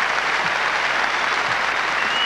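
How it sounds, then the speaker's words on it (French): A tennis crowd at the 1996 Australian Open final presentation gives a sustained ovation, steady dense applause filling the arena from start to finish. "mais qui reçoit l'ovation du public"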